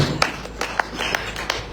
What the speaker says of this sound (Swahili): Pigia Yesu makofi the name of Jesus